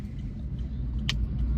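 A 2020 Volkswagen Polo Vivo 1.4 hatchback rumbles with a low, steady engine drone heard from inside the car, broken by one brief sharp click.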